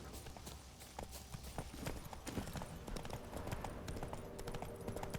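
Roach, a horse in The Witcher 3: Blood and Wine, trots with a steady, continuous clip-clop of hooves over a low ambient bed.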